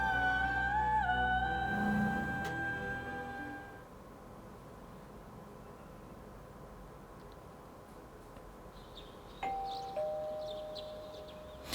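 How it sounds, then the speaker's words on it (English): A two-tone electronic doorbell chime in the video game Persona 4 rings out clearly, followed by a low steady hum, then a second softer chime near the end. "You hear the doorbell ringing."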